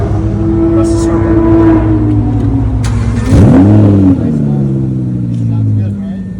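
Loud, close Audi R8 V10 engine idling with a sharp rev that rises and falls midway, then settling back to a steady rumble, with a voice talking over part of it.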